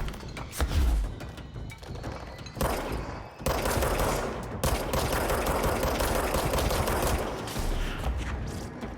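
Rapid bursts of gunfire in the video game Control, dense and loud, with sharp impacts and crashes layered through a chaotic firefight, nearly continuous with brief gaps.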